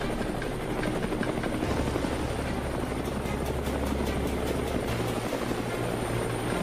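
A helicopter's rotor thumps and engine whine fill the air continuously, loud and steady throughout.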